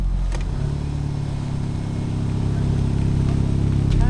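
A big-turbo Ford Fiesta ST fitted with a cowl induction intake drives off, its engine droning steadily and building slightly, heard close from inside or beside the car.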